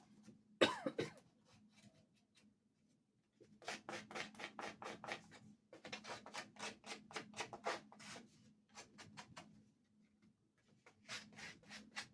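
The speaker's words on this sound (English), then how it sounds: "you can just rake your scissors across that, and then it does that, and it'll make it look torn, worn, distressed" Scissors blades raked repeatedly across the edge of a paper belly band to rough it up, giving dry, scratchy rasping strokes in quick bursts with short pauses between, close and moderately loud, with one sharper burst near the start.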